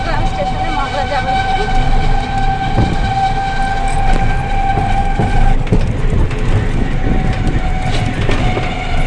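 A passenger train rolls toward Chattogram station in Bangladesh, heard from inside with steady rumble, rhythmic wheel clatter and a sustained horn tone running loud and close throughout, with faint voices of passengers mixed in.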